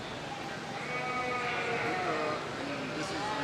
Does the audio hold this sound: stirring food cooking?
no